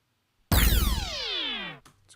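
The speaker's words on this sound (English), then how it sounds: "Flying buzzer zap electric." Electric zap weapon sound from a video game: a sharp attack after brief silence, then a buzzing, crackling burst with many tones sweeping downward together, fading out within about a second and a half.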